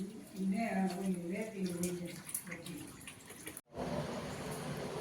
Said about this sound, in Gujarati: લ્યો લ્યો લ્યો ડોલ છલકી ગઈ